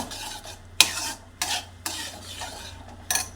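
A spoon stirs a thick halwa made with banana leaf in a pan, producing four or five distinct scraping strokes and clinks against the metal over a soft, low sizzle.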